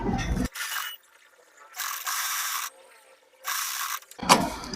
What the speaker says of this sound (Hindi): ऐसे फोल्ड करेंगे और हम इस पर सिलाई लगा देंगे।